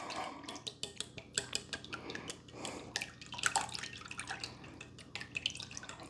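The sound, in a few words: whisking eggs in a bowl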